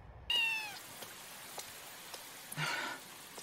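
A cat lets out a clear, rising meow, then a second meow a couple of seconds later, with faint soft taps in between, close and fairly quiet against a hushed background.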